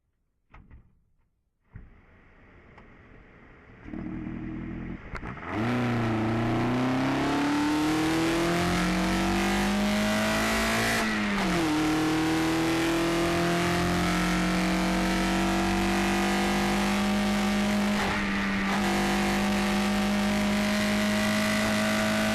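A 280 hp rear-wheel-drive Nissan Micra drift car with a K10 engine on individual throttle bodies starts, then revs and holds a loud, steady, raspy high idle for a long stretch, close by and alone.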